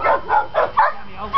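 A dog at an animal rescue near Kingman, Arizona, gives a quick run of five or six close, loud yips and barks, evenly spaced over a second and a half.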